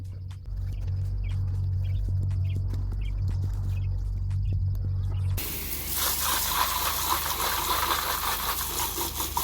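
Garden hose spraying water over seedling beds outdoors, a steady close hiss of water that turns louder and broader partway through, with low rumbling underneath and no talk.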